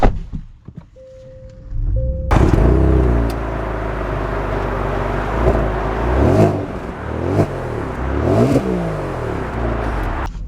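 A 2024 Genesis G70 3.3T twin-turbo sedan starts and pulls away: a thunk and a brief tone, then the engine swells in rising and falling revs through the gears, loud and close from inside the cabin.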